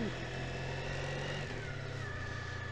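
A motorbike engine runs on a snowy, freezing morning, a steady close rumble with a faint shift in pitch as it idles and revs slightly.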